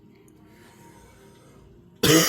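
A single sharp cough breaks out suddenly after about two seconds of quiet room tone.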